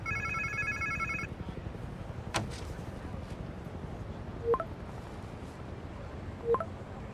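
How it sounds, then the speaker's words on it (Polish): A mobile phone in Marvel's Spider-Man 2 rings with a short electronic ringtone that stops after about a second, followed by quiet ambience with a few sharp distant impacts. "To chyba czyjaś komórka."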